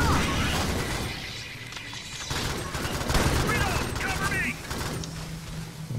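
Rapid, dense bursts of gunfire in the Alien Swarm video game, a near-continuous fusillade with sharp cracks and crashing impacts that swell and ease over several seconds.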